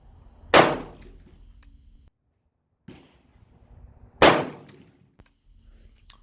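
Two sharp, loud rifle shots from a Zastava PAP M90 in 5.56, spaced about four seconds apart, each with a quick crack and a short decaying tail, separated by quieter handling noise.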